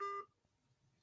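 A phone alert sounds at once as a loud steady two-tone beep for about a fifth of a second, then cuts off, leaving only faint low room noise.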